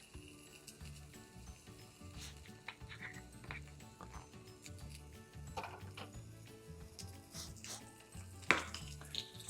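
Faint, steady sizzling of food frying in a new Trangia camp stove frying pan, with occasional scrapes and clinks of utensils stirring.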